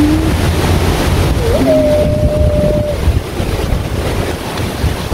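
Steady rush of surf and wind noise along the water, constant and fairly loud, with a brief tonal whine mid-way.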